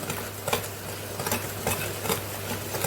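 Egg, vanilla and tart dough for a jam pasta frola are stirred together by hand in a bowl, making soft, rhythmic scraping and squelching strokes heard up close.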